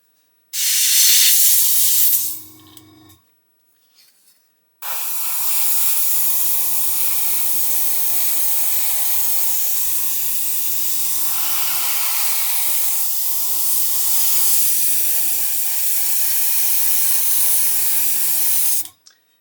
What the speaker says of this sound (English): It certainly does seem to spray better at 25